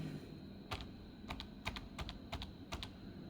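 Code being typed on a computer keyboard while programming an ATmega16 LED-blinking project: quick bursts of crisp key clicks in small clusters, close and clear over a quiet room hum.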